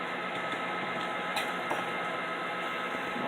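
An electric mixer beats vanilla cake batter for strawberry shortcake cupcakes, giving a steady, close, even motor whir with faint scraping ticks and no voices.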